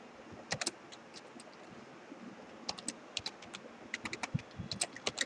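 Python code being typed on a computer keyboard, with scattered clusters of soft key clicks and pauses between bursts over a low, steady background hum.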